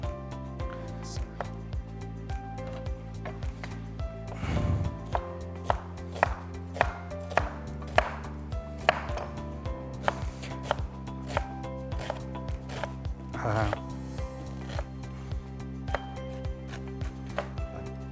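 A knife chops food on a board in an irregular run of sharp taps, preparing flavouring for beef, over a loud, steady musical backing with no speech.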